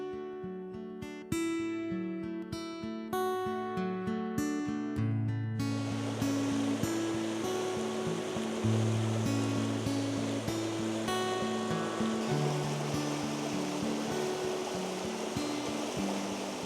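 The River Dart rushes and crashes in a constant broad roar of fast-flowing water, loud and close, running under steady tonal music throughout.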